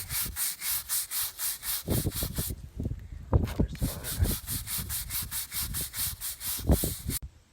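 Brush scrubbing rust remover into a rust-stained concrete surface, a steady rhythmic back-and-forth rasp of bristles on rough concrete, close and loud, with a few heavier strokes midway before it stops.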